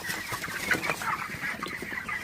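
Broiler chickens cluck and chatter continuously inside a poultry shed on a hot, humid day, with many overlapping birds close by and a few sharper calls rising above the crowd.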